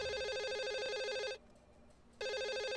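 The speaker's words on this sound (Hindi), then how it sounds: "आपके डेस्क पे फोन बज रहा है" A desk telephone rings in a loud, continuous electronic trill close by, breaks off for about a second, then resumes ringing.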